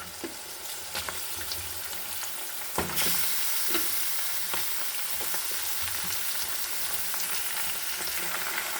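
Washed chicken added to a pan of fried onions for chicken kosha hisses and sizzles loudly, the sizzle swelling abruptly as the meat goes in, with scattered clatters of stirring and no speech.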